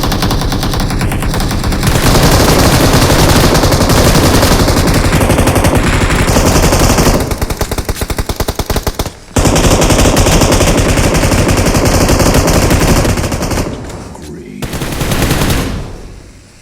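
PUBG Mobile gunfire rattles almost without pause, loud and close, in long automatic bursts with a brief break partway and another near the end.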